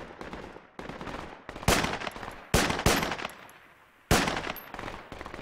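Rifle fire in the military shooter Project Reality: several sharp, loud shots spaced irregularly over a bed of softer distant gunfire and battlefield noise.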